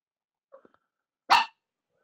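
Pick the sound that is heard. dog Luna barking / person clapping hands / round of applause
dog Luna barking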